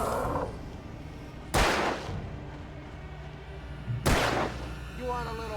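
Two sharp gunshots in the video game Alan Wake, spaced a few seconds apart over a quiet background hum, with faint tonal game sounds near the end.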